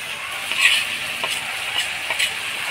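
Mustard paste goes into a hot pan for a spicy greens and dried-fish curry. A soft, steady sizzle with faint scraping and ticking continues close by for a few seconds, with no talking.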